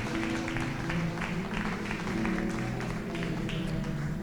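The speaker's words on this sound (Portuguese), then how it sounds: "Aplauda ao Senhor mais uma vez" A church congregation applauds together in steady sustained clapping, fairly close and full, over a low musical hum.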